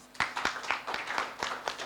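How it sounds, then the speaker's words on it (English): Applause for Ruth Bolo at the SDGs Champions Accelerator & Strategy Summit in Nairobi, a small group clapping in a loose, even rhythm of distinct claps, moderately loud and close, with no talk. "So let's also clap for Ruth."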